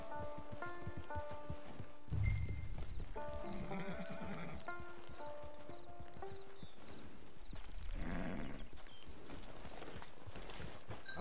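A horse's hooves clip-clop at a walking pace in the Red Dead Online video game, a steady rhythmic beat under tonal game music with a heavier thump partway through.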